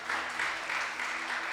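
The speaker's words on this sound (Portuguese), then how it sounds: "Se coloque em pés, aplaudindo ao Senhor" A church congregation stands and applauds during a worship service, giving a brief burst of dense, steady clapping at moderate distance.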